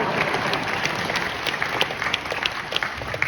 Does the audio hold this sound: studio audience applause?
yes